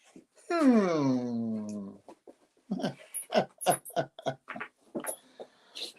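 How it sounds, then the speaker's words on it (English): A dog lets out one long, drawn-out moan that slides downward in pitch and fades over a couple of seconds, then a person talks indoors while the dog goes quiet. "Yeah, dog's doing a bit of moaning."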